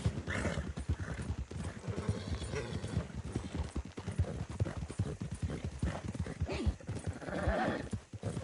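Horse hooves clip-clop in a steady gait, with a horse whinnying a couple of times, from the video game Red Dead Redemption 2. Close and rhythmic under faint ambient sound.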